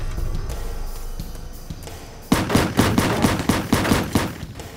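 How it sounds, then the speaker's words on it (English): Mac 11 machine gun firing a rapid burst of about ten sharp shots in a tight rhythm at night, loud and close, following a stretch of quiet low background. "Muzzle bursts ripped through the night air."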